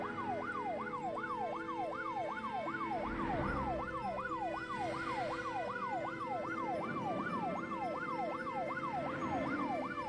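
A loud ambulance siren wails in a rapid, continuous up-and-down cycle throughout, set against a steady low background rumble in the video game Troubleshooter, with no one speaking.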